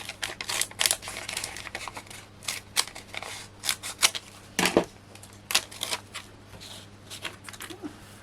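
Scissors snipping through card topper pieces, a run of short crisp cuts in irregular bursts close up, with small rustles of card between them.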